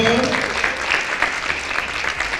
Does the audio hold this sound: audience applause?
yes